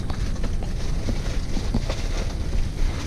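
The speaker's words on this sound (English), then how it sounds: "It's a windy day today." Steady wind buffets the microphone on a blustery, sunny day on the south coast during a stormy family camping trip, a continuous loud rumbling roar with gusty surges throughout and no voices.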